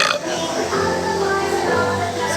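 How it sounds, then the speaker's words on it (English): A girl tries to burp, producing a low, drawn-out gurgling belch that runs for a couple of seconds at close range. "trying to burp."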